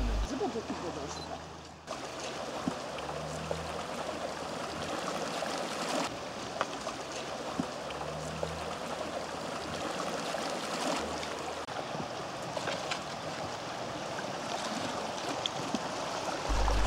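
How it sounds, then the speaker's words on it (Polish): A river in Thailand rushes past a raft, giving a continuous full wash of flowing water with occasional knocks and splashes, close and steady throughout. "Rzeka raz płynie wartkim nurtem na zwężeniach, innym razem rozlewa się szerzej i tratwa znacznie zwalnia."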